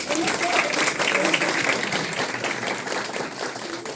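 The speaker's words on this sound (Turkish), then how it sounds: "Onlara büyük bir alkış istiyorum" An audience at a competition event gives a big round of applause, a loud, dense, continuous wash of clapping with crowd voices mixed in throughout.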